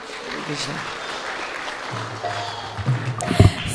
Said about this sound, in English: A huge round of applause to Brian.